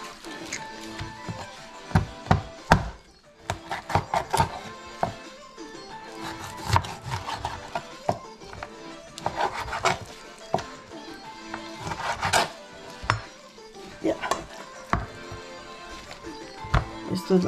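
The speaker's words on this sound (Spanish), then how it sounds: "Y aquí le quitamos toda la grasa que se pueda." A knife trims fat and skin from raw chicken on a cutting board, producing scattered taps and scraping knocks at close range under steady talk.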